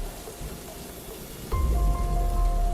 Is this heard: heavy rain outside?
yes